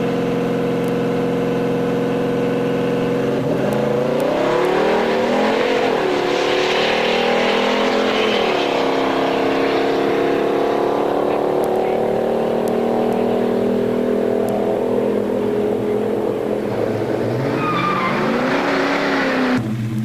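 A Buick GS Stage 1 drag car making a qualifying run at a drag strip, its engine loud and close, winding up through rising revs and gear changes in one sustained pass.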